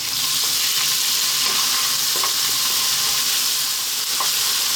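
Fresh chili and garlic ginger paste sizzle steadily in a hot pan while cooking a vegan Indian bell pepper fry, a continuous close frying hiss with a few light stirring clicks and no talk.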